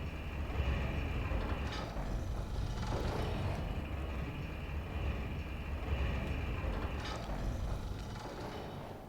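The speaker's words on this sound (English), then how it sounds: "all I want you guys to do is just to go and take this elevator to go up" Elevator rising in the video game Bloodborne, a steady low mechanical rumble and hum that runs evenly throughout with a few faint clanks, fairly loud and alone.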